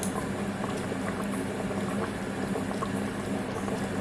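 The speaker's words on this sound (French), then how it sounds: "on laisse mijoter encore quelques minutes" Chicken fillets simmer in a tomato cream sauce, giving a close, steady bubbling and popping that holds evenly throughout, with no voices.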